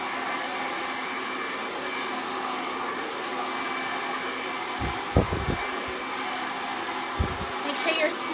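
A hair dryer blows steadily and close throughout, with a few soft handling bumps and thumps near the end.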